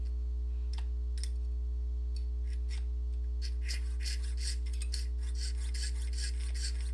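Metal saw cutting through a heavy piece of wire soldered to component legs: steady, raspy back-and-forth strokes that start sparse and quicken into a dense rhythmic run, close and fairly quiet with a constant low hum beneath.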